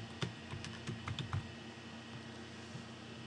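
Keystrokes on a computer keyboard entering a login name and password, a short burst of close, crisp taps in the first second and a half, then a steady room hum.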